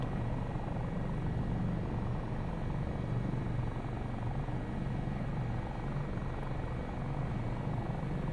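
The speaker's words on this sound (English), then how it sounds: "This is a brand new helicopter, just came out." A helicopter in the video game Microsoft Flight Simulator 2024 gives off a continuous, dense rotor and engine drone, steady and close, with no talk over it.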